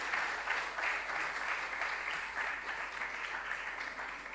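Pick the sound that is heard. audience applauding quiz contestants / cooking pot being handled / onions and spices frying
audience applauding quiz contestants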